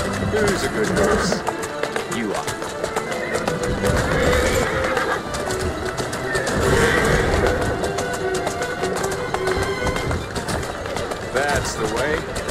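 Neighing and trotting hooves from a horse in the Assassin's Creed Syndicate game, whinnies rising over continuous clip-clop with running movement while someone talks to the animal.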